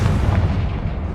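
Confringo, the fiery blasting spell in Hogwarts Legacy, goes off as a single deep, booming explosion with a rumbling low-end decay, loud and close, with no talking.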